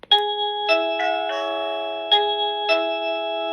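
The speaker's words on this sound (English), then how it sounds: "the chime already pre-configured to work with the doorbell" LinkSprite video doorbell button pressed, its pre-configured chime ringing a series of bright electronic ding-dong tones, several struck notes overlapping and ringing on, clear and close with no talk.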